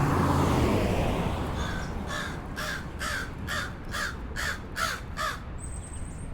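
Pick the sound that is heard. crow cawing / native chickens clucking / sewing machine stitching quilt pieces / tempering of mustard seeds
crow cawing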